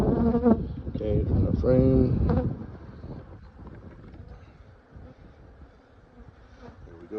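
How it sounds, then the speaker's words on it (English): Honeybees buzz steadily in a busy swarm around an open hive during a summer split inspection, the drone continuing under brief nearby talk and then carrying on alone at a lower level, with light wind on the microphone. "Our bees are pretty feisty here."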